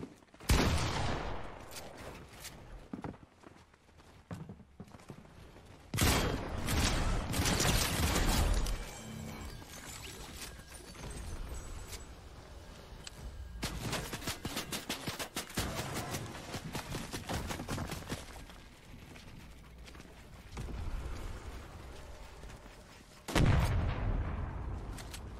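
Repeated bursts of gunfire in the Fortnite build mode, loud volleys and sustained fusillade-like crackle coming in waves across the stretch, with brief quieter gaps between heavy clusters of shots.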